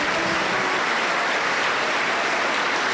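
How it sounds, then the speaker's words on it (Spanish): Sustained, dense applause from a large church congregation, loud and continuous for the whole stretch. "Fuerte aplauso para el Señor Jesús."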